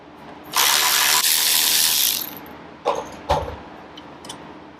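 A ratchet with an Allen bit works on bolts of a 2005 Honda VTX1300 motorcycle, giving a loud close burst of rapid clicking lasting over a second, then a few sharper metallic clacks.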